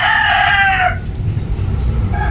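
A White Kelso rooster crows close by, one loud ringing call lasting about a second, followed by a brief quieter vocal at the end.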